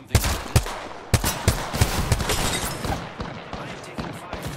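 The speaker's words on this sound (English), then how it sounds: "I am taking fire, friends. Taking fire." Gunfire in the Apex Legends video game, with a series of sharp, loud shots in uneven bursts, the early ones spaced apart and the later ones quicker and fainter, with mixed game sounds and some speech in the background.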